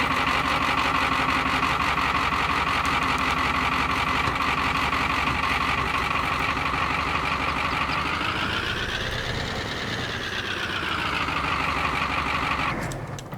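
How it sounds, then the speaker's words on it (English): Classic-era work truck engine running steadily up close, a continuous rough mechanical drone whose pitch rises briefly and settles again before cutting off at the end, with no talking. "Grandpa got him a nice truck. And this thing sounds really, really good."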